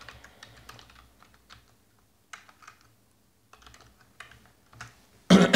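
JavaScript loop code typed on a computer keyboard, close and clear, in irregular bursts of key clicks separated by short pauses, ending in a sudden loud burst of noise.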